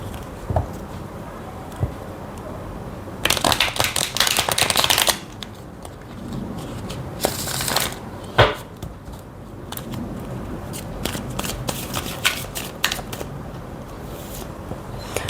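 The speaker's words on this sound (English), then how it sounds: "let's move to the tarot" Tarot cards being shuffled by hand, with bursts of riffling and soft slaps of the deck, close and fairly loud, separated by quieter handling and occasional taps.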